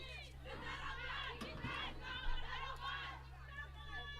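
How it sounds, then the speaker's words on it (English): Mozambique players in the changing room at an under-19 women's T20 cricket qualifier cheer their batters, a distant crowd of raised voices and shouts blending into steady background babble behind a low hum. "the players from the Mozambican changing room trying to cheer up their batters"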